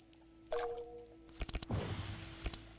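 Two bell chimes ring out in the deckbuilding game Across The Obelisk, a bright ringing tone followed a second later by a cluster of sharp metallic strikes and a final ding, over a quiet electronic hum.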